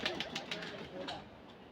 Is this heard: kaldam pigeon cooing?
yes